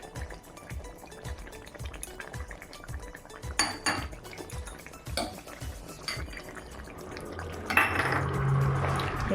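A plate is washed with dishes and cutlery clinking close by, over a rhythmic pulsing background and a brief splash of running water near the end, while a Bengali fish curry cooks.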